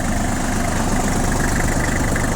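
A small Kubota Japanese tractor engine idles steadily up close, a loud, even mechanical chugging with constant vibration and no change in speed.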